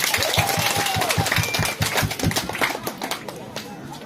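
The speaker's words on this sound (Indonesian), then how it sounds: "Tepuk tangan untuk Bapak Wakil." Audience at a church gathering applauding the deputy, a dense, continuous patter of many hands at moderate level with a rhythmic thumping underneath and voices mixed in.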